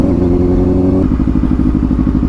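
A sports motorcycle's engine drones as it is ridden, a loud, close, steady low hum that shifts partway into a throbbing, pulsing rhythm.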